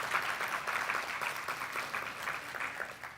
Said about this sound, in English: So again, please, ladies and gentlemen, one last round of applause for our Minister, Senzo Mkhulu.